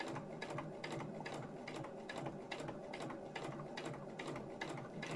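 A sewing machine hums and clatters steadily as it feeds fabric through, running continuously at a moderate, even pace without pause.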